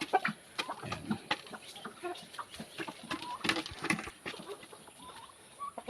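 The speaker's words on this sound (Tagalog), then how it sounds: "yan yung manok natin na shamo" Shamo chickens cluck and call in a busy flock, overlapping bursts close by against steady outdoor background noise.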